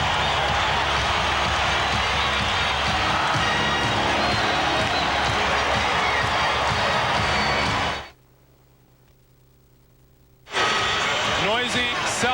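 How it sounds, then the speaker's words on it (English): A noisy sellout crowd roars and cheers at the Delta Center during a deciding 1995 NBA playoff game between the Utah Jazz and Houston Rockets, loud and sustained, then cut to near silence before the din returns. "Noisy sellout crowd at the Delta Center"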